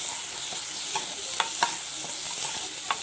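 Chopped tomatoes sizzling in a hot pan while a spoon stirs them, a constant close frying hiss with a few soft scraping strokes, no talking.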